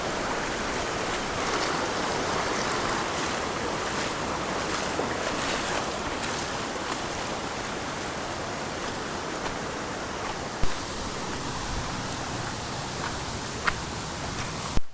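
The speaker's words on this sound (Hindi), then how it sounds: "पानी का बहाव थोड़ा सा तेज़ हो चुका है।" Fast-flowing water stream near Gupt Bhimashankar in Maharashtra, a steady broad rushing wash that stays constant and fairly close, with a few faint knocks near the end.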